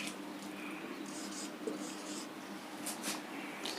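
A pen writes figures on paper while numbers are worked out, a light continuous scratching with a few brief louder strokes, close by and steady.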